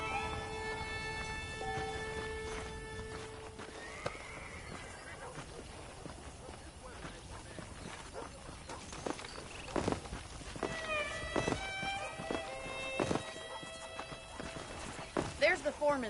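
Horses whinnying and hooves clip-clopping in the western video game Red Dead Redemption, a steady hoof rhythm with a few high neighs over game ambience and background music, loudest in the last few seconds.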